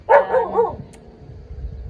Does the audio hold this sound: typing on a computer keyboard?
no